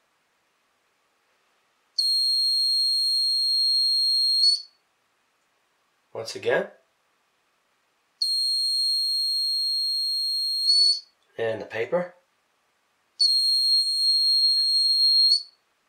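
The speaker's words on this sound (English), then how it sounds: "Now I'm going to swap out the LED with the piezo buzzer." A piezo buzzer in an air flow detection circuit sounds three times, giving sustained, shrill, steady tones of about two to three seconds each. Bursts of breath blown at the sensor come between the tones, and someone speaks briefly.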